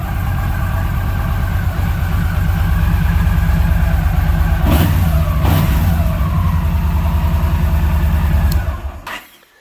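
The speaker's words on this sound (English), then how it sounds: "the bike sounds really good. Real strong." A 2011 Yamaha Stryker motorcycle engine runs close and loud at a steady, throbbing idle, the pulsing rumble continuing evenly before cutting off near the end.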